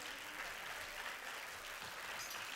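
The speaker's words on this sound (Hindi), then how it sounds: "उनके लिए ज़्यादा से तालियां तो बजनी चाहिए कि नहीं।" Applause from a seated audience at a Swami Vivekananda Jayanti yoga centre programme in Ulhasnagar, a dense, even wash of clapping heard at a distance and fairly soft throughout.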